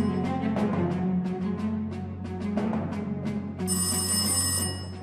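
A telephone rings during a scene set at a hotel in Mogadishu, a bright electronic ring entering near the end over a busy background of clatter and low hum.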